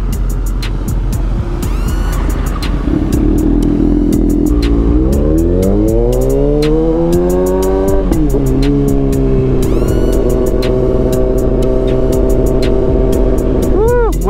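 A motorcycle engine idles close by and then revs up in rising and falling sweeps before settling back to a steady idle, loud and continuous, with repeated clicking ticks over it.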